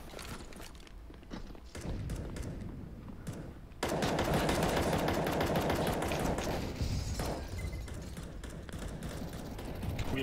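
Rapid gunfire from a video game, including Desert Eagle pistol shots in a demolition match on the Sugarcane map, bursts crackling over footsteps and mechanical clatter, growing louder and denser after a sudden jump partway through.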